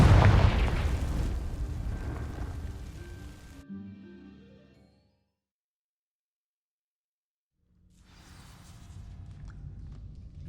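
A Confringo fire spell from Hogwarts Legacy bursts at the start with a loud, rumbling explosive blast that decays over several seconds into silence, followed later by faint ambient rumble.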